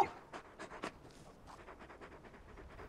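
A large dog in Final Fantasy XVI pants in quick, soft, rhythmic breaths, fading slightly after a louder opening burst, heard alone and fairly close.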